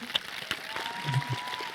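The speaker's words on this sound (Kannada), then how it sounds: "ಪ್ಲೀಸ್ ಜೋರಾಗಿ ಚಪ್ಪಾಳೆ ಬರಬೇಕು" An audience at a talk show gives a brief burst of light, scattered clapping, with a few distinct claps standing out over a quiet room.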